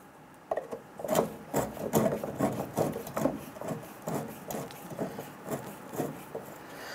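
A screwdriver turns screws into the plastic filler neck of a 2002-2008 Dodge Ram 1500 fuel tank, a close run of rhythmic ratcheting, rubbing creaks with no talking.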